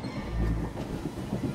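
Moving train in the video game SWTOR, a low continuous rumble of rolling wheels with faint rhythmic clatter, steady and unbroken.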